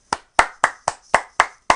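Seven sharp, evenly spaced hand claps from a single person, close and clear with brief silences between, forming a short mock round of applause on a sports picks podcast.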